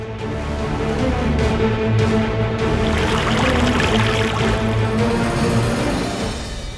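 Water is poured steadily onto a burned foot, a continuous splashing trickle that stays close and fairly loud for several seconds over a busy background.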